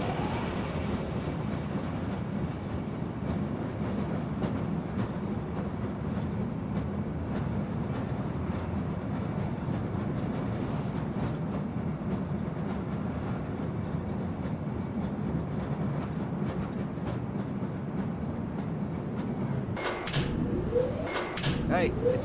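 A train in the video game Black Mesa rumbles along with a steady low drone and faint rail clatter, closing with a few sharp door-like clanks.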